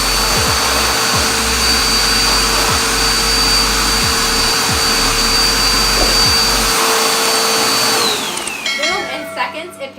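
A Dirt Devil Featherlite handheld vacuum with crevice attachment runs steadily and loudly at close range with a constant whine, then winds down near the end as the motor stops, with a few thumps and rattles.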